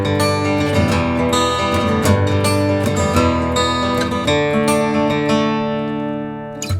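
Acoustic guitar strumming the chorus chords of a song, a steady rhythmic strum that rings out close and full with no voice, fading slightly at the end.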